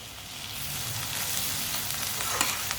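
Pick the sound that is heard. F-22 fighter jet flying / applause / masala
masala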